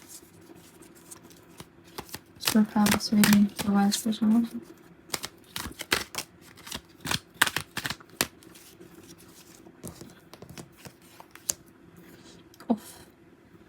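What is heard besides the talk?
shuffling tarot cards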